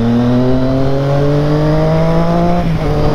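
A motorcycle with water in its fuel tank, speeding up after a restart, a loud, close engine note whose harmonics climb steadily in pitch, then briefly falter near the end.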